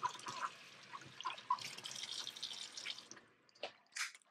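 Scuba mask being rinsed under running water from a tap, a faint continuous trickle and splash with irregular drips and brief louder splashes near the end.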